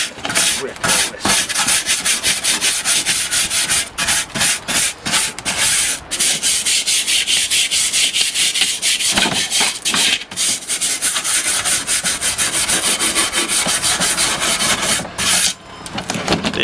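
A wire brush scrubs hard at a grimy 2009 Harley Davidson motorcycle part in a workshop, making loud rhythmic rasping strokes with short gaps between bursts throughout.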